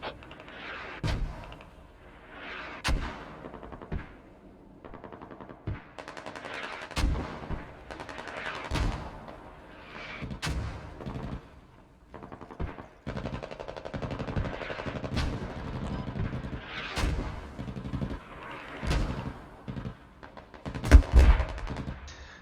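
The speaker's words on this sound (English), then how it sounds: "We're about to have a mortar active." Mortar and gunfire in a military video game, a long run of distant booming impacts and sharp shots spaced irregularly, some louder nearby hits rising above rumbling background fire.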